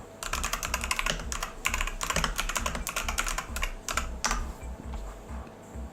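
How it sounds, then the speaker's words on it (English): Fingers type on a computer keyboard during programming work, dense bursts of quick clicking keystrokes that thin out and stop near the end, close and clear with no talking. "I'm typing."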